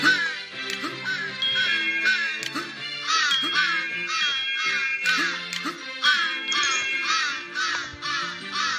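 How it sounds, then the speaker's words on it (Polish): Crows in the video game Santa Claus In Trouble caw over and over in loud, harsh, overlapping bursts above a game music melody. "Aż nie słychać muzyki, bo te kruki tak kraczą."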